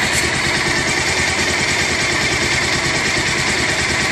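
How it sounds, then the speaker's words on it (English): A Bajaj Pulsar 220 motorcycle engine runs steadily after an oil flush service, a close, loud, even idle with a rapid regular thrum and no pauses. "So engine is running good."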